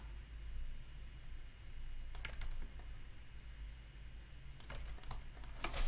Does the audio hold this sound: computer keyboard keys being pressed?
yes